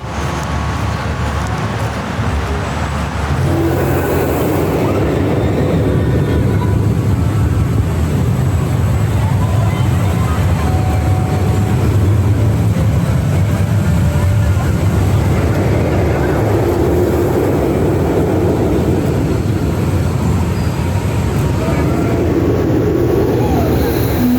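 Continuous loud rushing roar of wind and rumbling track noise from a ride on the Electric Eel roller coaster at SeaWorld San Diego, sustained throughout with surging intensity.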